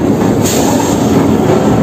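Kolkata Circular Rail local train runs in a loud, continuous rumble with wheel noise from on board, and a short squeal early on.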